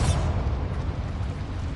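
A Bombarda blasting spell explodes in Hogwarts Legacy, a single deep, booming burst at the start that rumbles and fades out over the following moments, with no talk.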